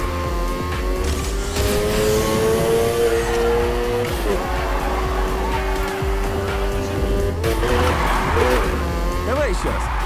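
A car drifts in Need for Speed Heat, the engine whining steadily as tires squeal in long stretches, with a sharper burst of screeching and gear changes near the end.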